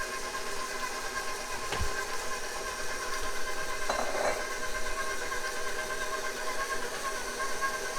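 An electric mixer beats chocolate chip cookie dough with a steady, close, whirring motor drone that runs unbroken throughout, and no one speaks.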